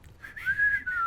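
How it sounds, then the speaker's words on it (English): A person whistles a short, wavering tune, the single clear pitch sliding slightly up and down for about a second, close and fairly loud with no talk. "I go walk over to him and start whistling terribly with him."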